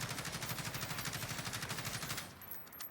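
Rapid automatic gunfire from a bipod-mounted weapon in the video game Warzone, a steady fast rhythm of close, loud shots for about two seconds before cutting off, with no talking.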